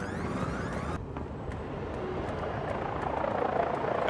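A helicopter in Syndicate drones with a steady, loud rotor and engine roar, continuous and close throughout with a rhythmic blade chop, and no talk.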